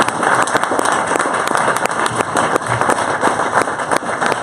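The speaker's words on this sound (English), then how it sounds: "let's give them another big standing round of applause like you did for me" An audience at a startup event gives a standing ovation, applauding steadily, dense clapping throughout with no voices standing out.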